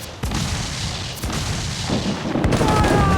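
Ship cannons firing a volley in the video game Assassin's Creed IV Black Flag during a naval battle, loud booming blasts in quick succession over a constant roar of wind, sea and combat noise.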